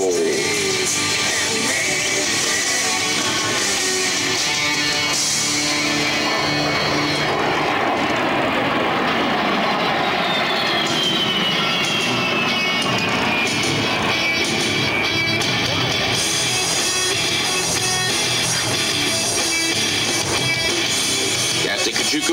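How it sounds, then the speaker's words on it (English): An A-10 jet flies an airshow demonstration at the Quad City Airshow, its loud continuous engine roar filling the air and shifting in pitch as the aircraft passes and repositions. "is now repositioning the A-10 for a pass down the runway"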